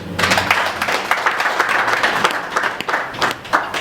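A crowd at an organization's event claps in sustained, dense applause that stays loud and steady throughout, with no talking over it.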